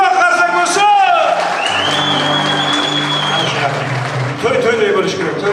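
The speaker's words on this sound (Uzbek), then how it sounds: "Qattiqroq qarsak bo'lsin." Audience applause at a Samarkand wedding ceremony, steady clapping that runs through the whole stretch, mixed with music and a talking voice.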